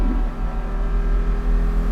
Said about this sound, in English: This car has an optional exhaust on it, and it's sensational.